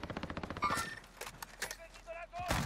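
Rapid automatic gunfire in the video game Warzone, a quick string of evenly spaced shots followed by scattered single cracks, with voices talking over the fight.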